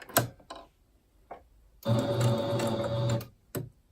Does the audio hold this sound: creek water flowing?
no